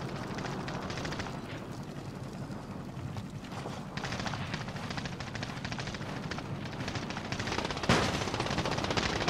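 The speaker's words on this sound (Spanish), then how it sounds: "Se están disparando entre los dos equipos, Johnny." Gunfire between two teams in the video game Call of Duty Warzone: sustained rapid automatic bursts with scattered single shots, steady and fairly loud throughout, no talking over it.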